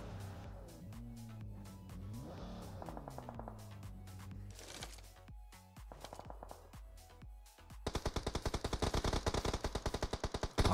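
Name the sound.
gunfire in PUBG Mobile video game match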